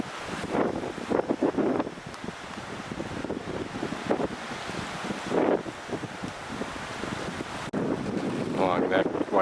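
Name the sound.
cold blustery wind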